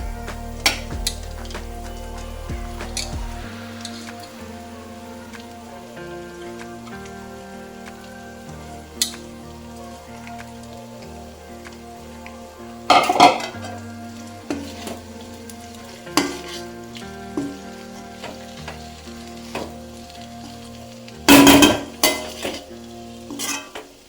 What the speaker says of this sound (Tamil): நம்ம கட் பண்ணி வச்சிருக்க பரோட்டாவை போடுவோம்